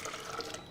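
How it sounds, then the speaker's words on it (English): Water pours steadily into a blender jar for a cashew cream, a brief continuous splashing and trickling heard close up with no talking. "I'm going to add the water first."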